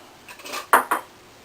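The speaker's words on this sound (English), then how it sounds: "So we're going to fill our jars up." A few short clinks of glass jars against metal while filling them with marmalade, two sharper taps close together, quiet and brief with no talking.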